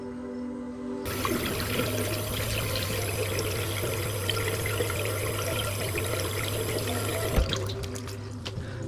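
Tap water running steadily into a sink during face washing, a loud, even rush that starts abruptly and flows continuously before cutting off near the end with a few small knocks, no voices.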